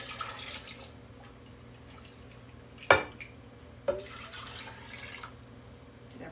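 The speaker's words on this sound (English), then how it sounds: "I'm going to put this in here and put the rest of my brine on top." Brine pours over a 4 to 5 pound beef brisket in a pot while corned beef is cured at home. Liquid splashes and drips come in a few short bursts, with one sharp clunk near the middle.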